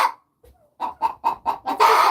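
A hen clucks in a steady run of five rhythmic, close clucks, ending in a louder, harsher squawk.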